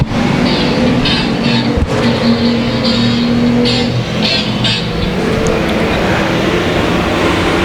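A dirt track race car at Boothill Speedway accelerates hard off the corner, its engine roaring loud and continuous with a rough, gritty edge over the full stretch, mixed with general track noise.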